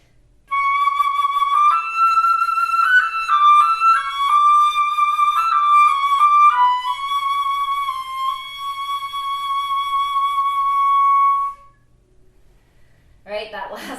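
A violin plays a soft, lyrical phrase from Fauré's Pavane that climbs up the octave, held notes flowing close and quiet before the last note tapers away into silence.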